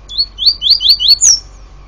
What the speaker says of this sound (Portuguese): Papo Tui aqui cantando gaiola na mão